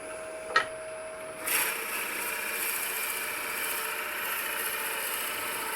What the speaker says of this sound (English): And we'll slow this down for the drilling.